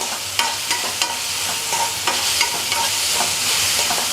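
Ginger-garlic paste roasting in a hot pan, sizzling steadily while a utensil scrapes and stirs in irregular strokes, with no voices.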